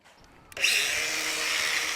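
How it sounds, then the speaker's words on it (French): An angle grinder cuts to shorten the metal rod that holds an electrode for an OekoTube chimney unit. After a brief near-quiet start it spins up into a loud, steady, high-pitched whine that continues to the end. "Raccourcir la tige à l'aide de la meuleuse."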